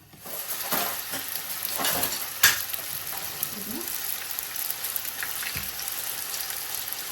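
Sweet dessert dough frying in hot oil, a steady broadband sizzle with occasional sharp pops and a few soft stirring clinks, close and continuous throughout.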